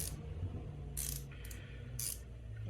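Wrench tightening on a Triumph Bonneville T140V engine during tappet adjustment, three short metallic ratcheting bursts spaced about a second apart, close and fairly quiet, no voices.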